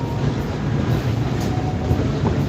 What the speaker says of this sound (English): this noisy ass train that's going through